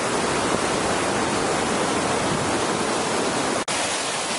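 Water pours steadily over a small dam above a mill, a dense, even rushing roar that stays close and constant throughout with no voices.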